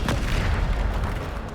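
A Bombarda spell explosion in Hogwarts Legacy, heard as a loud, dense, booming blast that fills the whole moment and then rolls off slightly, with no voices.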